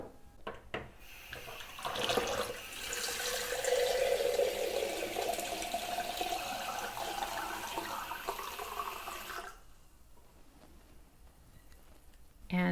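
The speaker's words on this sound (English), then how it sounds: "I'm going to fill the glass jar that the alcohol tincture was in with water" Tap water runs into a glass jar in a kitchen, a steady splashing rush that rises in pitch as the jar fills, then cuts off, with faint background noises before and after.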